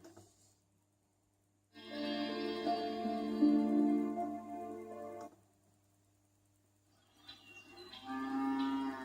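Cow moo alarm sound from a Philips Wake Up Light HF3485, a long, loud, clear bovine moo lasting about three seconds, followed after a pause by a second moo starting near the end.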